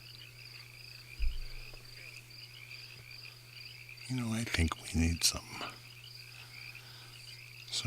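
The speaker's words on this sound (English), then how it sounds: "some of my barking frogs" A steady nighttime chorus of barking frogs and trilling insects, with short calls breaking through and a person talking briefly in the middle.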